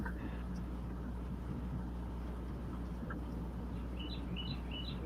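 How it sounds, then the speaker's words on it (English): Birds chirp and call outdoors among trees, some still holding their leaves. The short bright tweets are scattered and fairly faint over a steady low engine-like rumble, and nobody speaks. "These birds are really getting into it."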